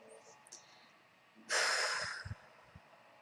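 A single deep breath, drawn in and let out audibly as a long, moderately loud breathy rush, followed by faint low sounds.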